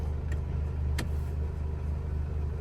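A Mercedes V-Class van engine runs steadily just after starting, a low, even mechanical hum with a couple of brief faint clicks, no voices.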